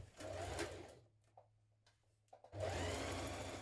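A sewing machine stitches a pocket bag seam in two close, steady bursts of whirring, separated by a quiet pause with a few small clicks.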